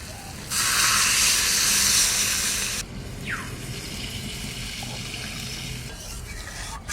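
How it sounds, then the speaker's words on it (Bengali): Water splashes loudly into a cooking pan holding potatoes for about two seconds in a home kitchen, then gives way to a steady, quieter background hiss. "এবার আলু কটা দিয়ে দিচ্ছি এবার জল দিয়ে দেবো"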